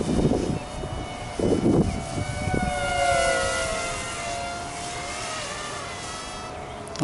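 A HobbyMate X160 drone on a 3S battery flies line of sight, its high motor whine rising and falling as it passes, with a few louder low gusts early on and no talk.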